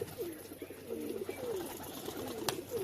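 Racing pigeons coo in a low, repeated rolling rhythm, several birds close by, with steady ambient noise and no talk.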